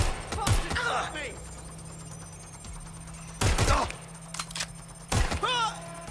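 Gunfire from a suspect in Watch Dogs Legion: a few short clusters of sharp shots spaced a couple of seconds apart, close and punchy, with a voice speaking between the bursts.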